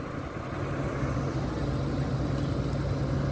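A boat engine's steady low drone hums continuously, distant and fairly faint, with a broad wash of background noise.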